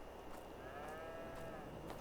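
Cattle low in a snowy farm setting within the Farming Simulator 22 game, one drawn-out moo rising and falling over a constant background hum and ambient game sound.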